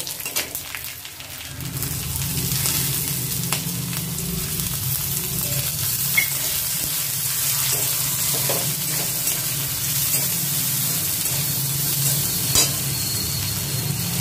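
Chopped green chili and carrot sizzle steadily in a hot pan while being stirred, a constant loud frying hiss with occasional scraping clicks of the spoon, no voices.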